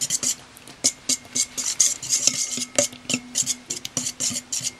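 A utensil stirs egg yolks in a bowl for a cheesecake flan filling, close and fairly loud, with steady rhythmic scraping and clinking strokes.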